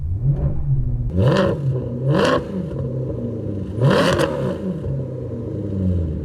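A Maserati engine running on 0-degree air, with three sharp revs rising and falling over a steady rumbling idle, heard up close and loud with no talking.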